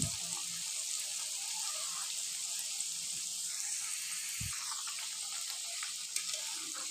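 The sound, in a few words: egg and flour rolls frying in oil in a wok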